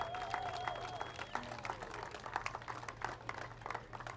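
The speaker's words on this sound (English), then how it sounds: "Please give a loud round of applause for Ambassador Flynn." Crowd applause at an outdoor square dedication in Boston, steady clapping from a gathered audience that sustains for several seconds, fairly faint and distant, with a low hum beneath and some faint voices mixed in.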